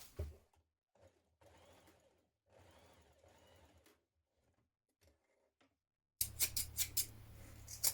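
A sewing machine stitching dress seams with a back tack, running in several short bursts separated by pauses, quiet and close, followed by a louder stretch of clicking snips at the end; no talk.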